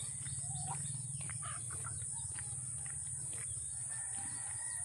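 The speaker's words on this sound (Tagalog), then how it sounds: "Shoutout sa mga manok." Chickens cluck faintly in the open air beside a river and rice fields, with scattered short calls over a steady high insect-like hum and soft outdoor ambience. No one speaks.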